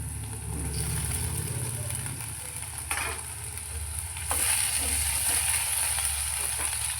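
Okra tossed into a hot pan with garlic and turmeric sizzles and fries steadily, with a few stirring scrapes and a louder sizzle burst partway through.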